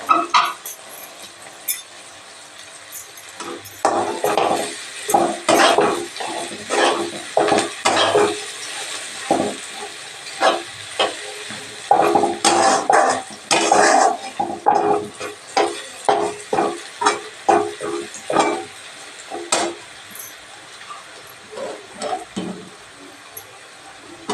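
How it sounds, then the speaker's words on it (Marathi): Onion roasting in a pan until red while a utensil stirs it, giving repeated clinks and scrapes against the metal in an irregular rhythm over a steady background hiss, with no talking. "लाल वस्तूर कांदा भाजून घ्यायचा कांदा म्हणजे कच्चा नाही ठेवायचा"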